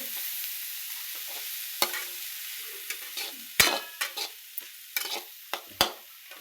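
Moth beans (matki) frying in a pan while being stirred: a soft steady sizzle broken by several sharp scrapes and clinks of the spoon, close and fairly quiet, with no talking.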